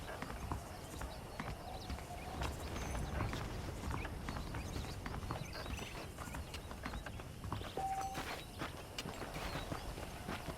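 Steady clip-clop of horse hooves walking at an even pace in the video game Red Dead Redemption, fairly faint, over a continuous outdoor ambience.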